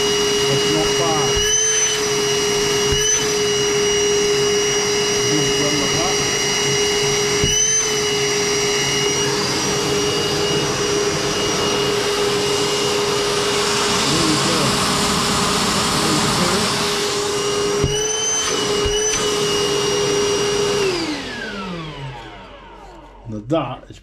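A Milwaukee M18 cordless wet-dry vacuum roars loud and close with a steady high whine, punctuated by a few brief dips, then winds down to silence near the end.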